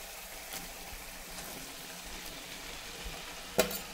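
Vegetables for shukto, a Bengali mixed-vegetable dish, frying in a pan with a steady, soft sizzle throughout and one sharp clink of a utensil near the end.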